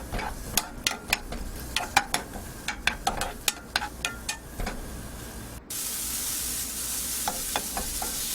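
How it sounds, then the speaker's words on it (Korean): Sliced onion and a spoonful of minced garlic stir-fry in oil in a pan, with a run of sharp spatula clicks over a soft sizzle, then a louder, steadier hiss broken by a few scattered clicks. "썰어둔 양파와 다진 마늘 한 큰술을 넣어서 먼저 볶아주겠습니다"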